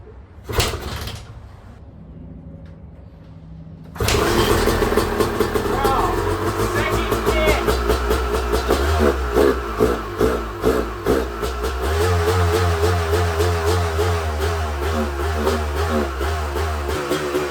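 A Honda CR250 two-stroke dirt bike catches after a kick-start and bursts to life, its engine blipping and revving in sharp, repeated rises and falls, loud and close, then settling into a steady idle.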